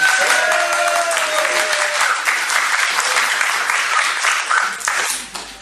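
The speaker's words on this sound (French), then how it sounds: "Faites-moi le entendre par vos applaudissements" A full hall audience applauds, dense steady clapping sustained for several seconds before tapering off, with faint voices mixed in.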